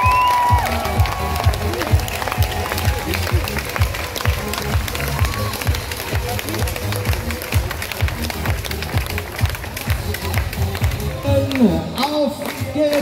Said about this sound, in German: die kriegen jetzt mal einen mega, mega, mega, mega allen Applaus.